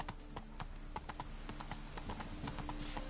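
Roach the horse galloping in The Witcher 3, a steady rapid run of hoofbeats at close range over constant background game ambience.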